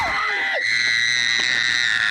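High, piercing shriek from the character Fred in Fred: The Movie, a loud sustained scream that starts with a brief squeal and then holds steady, harsh and strained.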